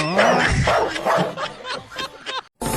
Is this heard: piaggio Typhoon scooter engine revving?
no